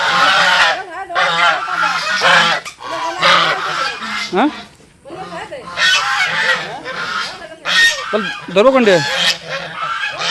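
A large goose bought for a picnic honks loudly and repeatedly at close range in harsh bursts, while people talk around it.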